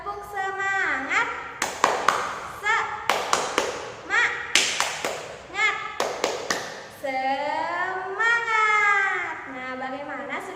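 A classroom clapping chant led by a teacher with children, sharp rhythmic claps in quick bursts alternating with chanted voices, loud and close, with a sustained sung call near the end.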